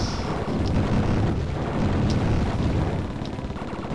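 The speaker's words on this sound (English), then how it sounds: "All I can hear is just immense rapid gunfire and explosions" Dense, loud rumbling barrage of rapid gunfire and booming explosions from the video game Tyrian, continuous throughout with a few sharper bursts standing out.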